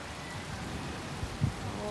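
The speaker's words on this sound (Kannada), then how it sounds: "ನೋಡಿ ಮಳೆ ಜೋರೇ ಆಯಿತು" Heavy rain falling in Bangalore, a steady dense hiss throughout with a couple of low thuds near the end.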